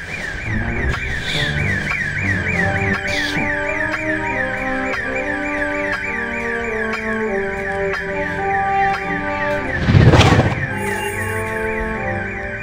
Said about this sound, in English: Oh, now the alarm stopped.